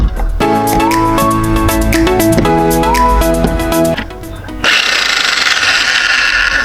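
A Bestguard chipping gun under test for faults bursts into a harsh, steady buzzing roar partway through, after a stretch of music and talking.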